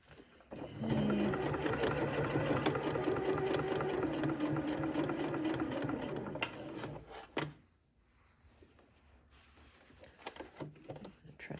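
Sewing machine basting a seam on a denim skirt, a steady mechanical whirring hum running for several seconds before stopping with a click, close and moderately loud, followed by quiet handling noise.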